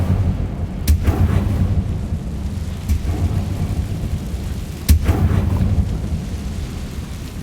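An Incendio fire spell cast in Hogwarts Legacy bursts out as a few loud, sharp blasts over a steady roaring rumble, with no one talking.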